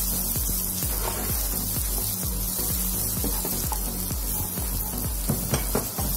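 Chopped onions sizzle and fry in a pan for a frittata, a dense crackling hiss with soft stirring scrapes and clacks throughout, close and steady, with no voices.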